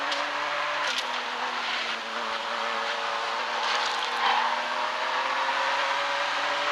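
A racing car drifting in the mobile racing game Asphalt 9: a continuous engine drone with steady tones and a faint tire squeal, loud and sustained without voices.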